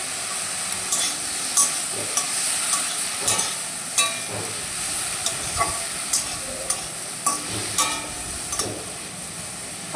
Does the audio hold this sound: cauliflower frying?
yes